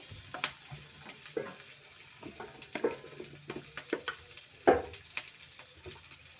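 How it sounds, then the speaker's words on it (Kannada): Pepper chicken fries in a pan with a soft sizzle under irregular clacks and scrapes of a spatula stirring, close and fairly quiet with no speech. "ಸ್ವಲ್ಪ ಫ್ರೈ ಆದರೆ ಸಾಕು."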